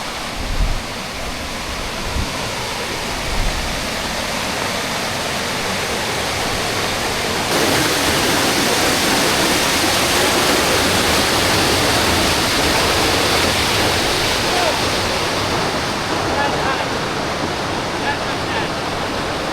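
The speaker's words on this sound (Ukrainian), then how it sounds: "Водоспадик, клас." A small mountain waterfall in the Carpathians rushes loudly and steadily nearby, a dense unbroken roar of falling water that swells slightly midway and holds for the whole stretch.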